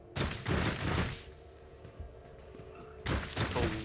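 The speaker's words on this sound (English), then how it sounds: "There's a lot of gunfire going on down this way." Gunfire and explosions erupt in the video game Warhammer 40k: Rogue Trader, with two loud bursts of shots and blasts separated by a quieter stretch of ambient hum.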